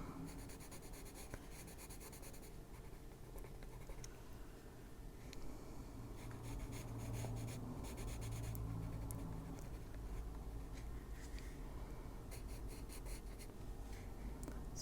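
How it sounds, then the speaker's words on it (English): Pencil coloring on paper, shading in purple over intricate ink animal line art, with steady close scratchy strokes in repeated bursts, no talk. "we're going to color that in with the pencil"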